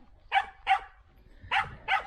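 A dog at a rural village house barks four times, close and loud, in two pairs of sharp barks separated by a short pause.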